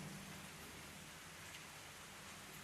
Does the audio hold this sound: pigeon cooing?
no